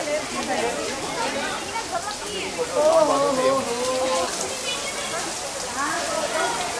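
Water from the Saavan Bhado fountain at Saheliyon Ki Bari garden in Udaipur sprays and patters steadily like falling rain, a continuous hiss heard under people talking nearby.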